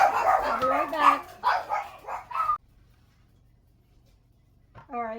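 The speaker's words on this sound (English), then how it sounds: "found out what they were barking about" Dogs bark in several quick bursts, loud and close, then fall silent before a brief yelp returns at the end.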